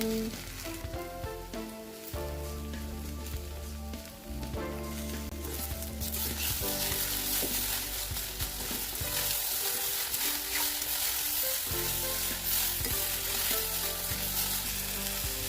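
Bitter gourd pickle fries and is stirred in a pan, a continuous bright sizzle and crackle with scraping stir strokes, growing louder and denser partway through, with no speech.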